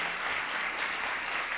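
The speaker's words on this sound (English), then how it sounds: "Give him a round of applause." A brief wash of audience clapping at a political debate event welcoming a speaker to the stage, steady and moderately distant.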